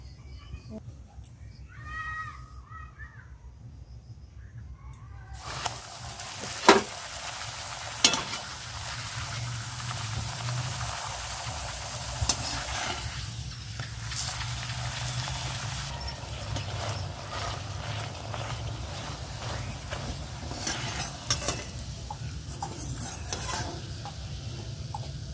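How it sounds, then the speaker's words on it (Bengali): Rolled parathas fry in a pan in a home kitchen, quiet at first, then a steady sizzle begins after a few seconds and continues throughout, with occasional sharp clanks of a utensil against the pan. "আর এখন আমি এগুলো সব ভাজা করে নেবো"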